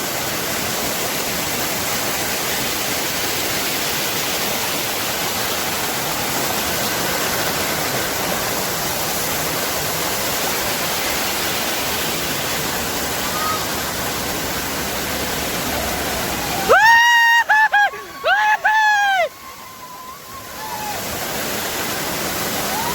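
Jambhulkada waterfall at Donawade, a steady roar of rushing water blended with gusting wind, close and loud throughout, with a brief burst of speech near the end.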